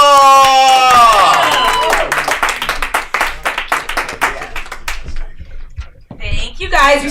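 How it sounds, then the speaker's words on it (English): Audience at a live comedy show in a bar applauding a comedian as she is introduced, a burst of claps and some cheering that starts loud and thins out, with the host's voice over the start. "Give a round of applause for Lindsey Shaw!"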